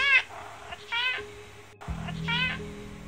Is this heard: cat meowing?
yes